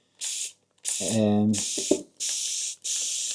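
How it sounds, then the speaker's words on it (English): A spray bottle squirts water onto a painting in four short hissing bursts, with a person talking over the second burst. "Just spraying it with water now to sort of try and push it around a bit, but not too much."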